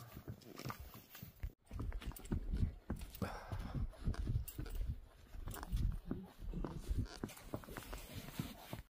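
Hooves clip-clop steadily on a hard horse trail near Rara Lake, Nepal, a horse walking close by with irregular thuds and some background rustle.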